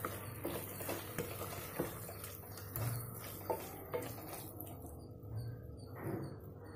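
Paneer cubes sautéing in a pan for paneer biryani, with soft sizzling and periodic scrapes and taps of a stirring spoon, close and fairly quiet, no talking.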